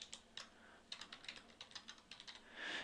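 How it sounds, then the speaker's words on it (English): Steady quick typing on a computer keyboard entering data into spreadsheet cells, close and quiet, a run of light clicking keystrokes with no talk. "So I'm typing into these cells."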